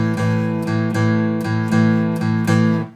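Guitar strummed in a 12-bar blues shuffle rhythm: a steady long-short swing of chords, about seven strokes, close and fairly loud with no talking.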